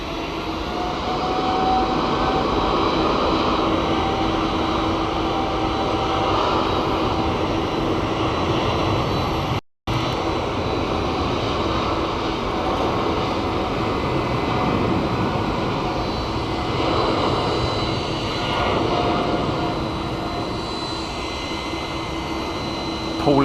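A jet airliner rolls out for departure on a runway at Sydney Kingsford Smith Airport, a steady broadband engine roar held at moderate distance for over twenty seconds, with a brief dropout midway.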